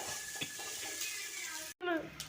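Onions sautéing in a pan until golden for a Kongu-style uppu paruppu: a steady close hiss runs throughout, broken by a brief cutout near the end, after which a short voice-like sound is heard.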